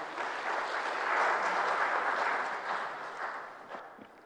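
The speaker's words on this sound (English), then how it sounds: "Please, a round of applause to him." Audience applause at a New Year celebration with ambassadors, a dense wash of clapping that swells and then gradually fades away.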